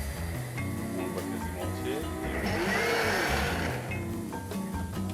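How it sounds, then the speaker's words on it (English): A kitchen blender whirs steadily at close range, grinding parsley and breadcrumbs into green crumbs in a Michelin-starred chef's kitchen, the motor drone continuous and loud throughout. "We mix that together in the blender"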